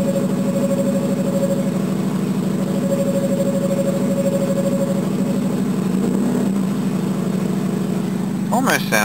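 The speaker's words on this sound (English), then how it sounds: "A few weird little noises coming out of that rotary." Mazda 12A rotary engine idling steadily after a cold start, loud and close, with a rough harmonic drone, a brief dip and change near the end where odd squeal-like noises rise.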